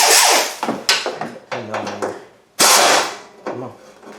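Loosening a radiator bolt on a 2009 Honda Pilot during air conditioning leak repair: loud bursts of a power tool whirring in short runs, with sharp rattling clicks and metallic knocks between them, close by.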